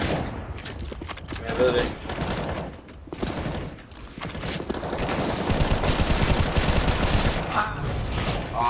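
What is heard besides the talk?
gunfire in the video game CS:GO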